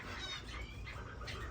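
Owl finches call in an indoor bird room, a dense chorus of small chirps and squawks running steadily throughout at close range with no talking.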